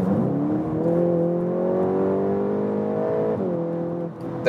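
A VW Golf 8 GTI Clubsport accelerating hard in Nürburgring mode, its engine note climbing steadily and loud for several seconds, then dropping sharply at a gear shift before building again near the end.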